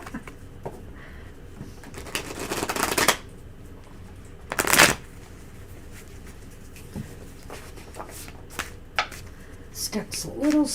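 Tarot cards shuffled by hand in two brief, crisp riffling bursts close by, with softer card handling taps in between and some talk.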